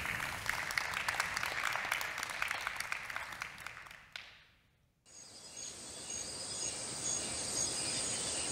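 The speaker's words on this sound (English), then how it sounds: "Julia Watson, Mathieu Kasyama, a warm applause, please." Audience applause welcoming guests at an evening event: a moderate, even patter of clapping fades out after about four seconds. It is followed by a quiet gap and then a steady, hissing room tone.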